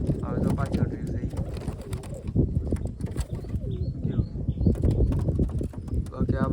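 Pigeons in a loft give low, soft cooing under steady nearby talk, with fluttering and shuffling noises scattered through the background.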